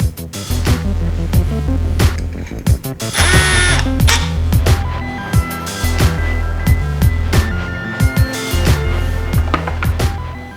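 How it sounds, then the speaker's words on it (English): A power drill bores holes in a 39mm motorcycle fork damper rod during a Race Tech Gold Valve Emulator install, with loud whirring bursts that start and stop repeatedly, broken by sharp clicks and clanks of handling. "So next up is going to be drilling out these holes"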